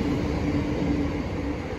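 British Rail Class 395 train 395013 pulling away from Platform 2 at Deal station in Kent, bound for Ramsgate via Sandwich: a steady, close rumble with a faint electric whine, continuous and fairly loud, no talking.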